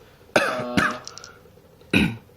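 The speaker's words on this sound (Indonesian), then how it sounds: "sorry kameramennya batuk" A cameraman coughs off-mic, three separate harsh throat-clearing coughs spaced across a couple of seconds, moderately close against a quiet room.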